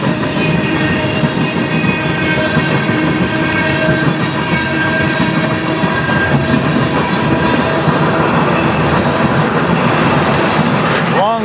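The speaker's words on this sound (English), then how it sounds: "Long train." A CN manifest freight train pulled by locomotives rolls steadily past nearby, a loud, continuous rumble of wheels and rail noise with faint squealing tones that lasts the whole clip.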